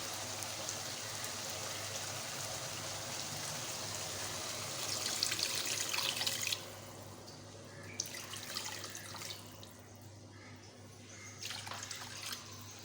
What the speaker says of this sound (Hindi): तकरीबन इसमें मैंने 3 गिलास से करीब पानी ऐड किया है